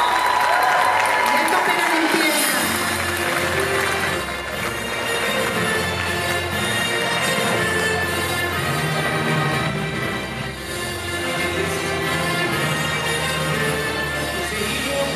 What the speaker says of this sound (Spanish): ¡Se escucha ese aplauso!